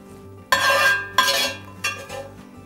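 Spiced ginger and cumin seed from the stove go into a samosa filling in a kitchen, with three distinct scraping, clinking spoon-on-pan strokes at close range, each fading out.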